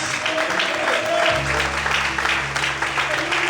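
A church congregation claps loudly in worship, a dense, continuous roar of applause joined partway through by a low, sustained organ or keyboard tone, with voices mixed in.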